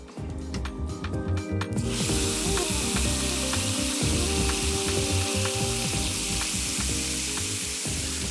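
Meat frying in an oiled, preheated frying pan for Korean food, a loud continuous close sizzle with rhythmic scraping and stirring strokes throughout.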